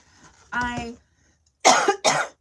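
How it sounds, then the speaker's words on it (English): A short vocal sound, then after a pause two harsh, broadband coughs from someone recovering from COVID, in quick succession, close and fairly loud. "sorry, I'm still coughing from my COVID"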